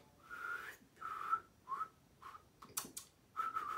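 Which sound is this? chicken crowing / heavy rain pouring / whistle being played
whistle being played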